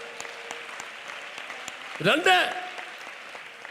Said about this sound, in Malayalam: കൈയടിച്ച് സ്തോത്രം പറ.